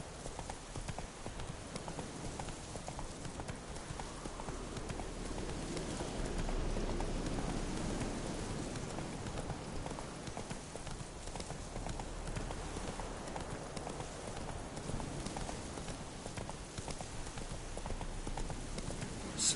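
Horse hooves clip-clopping steadily while riding in The Witcher 3, a continuous rhythmic gallop-like patter at moderate loudness throughout, with no talk.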